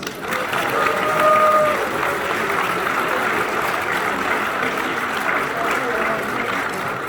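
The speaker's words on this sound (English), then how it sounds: "Give Ben a round of applause." A crowd applauds steadily for several seconds, a dense wash of clapping in a large convention panel room at Fan Expo 2022, with some cheering mixed in.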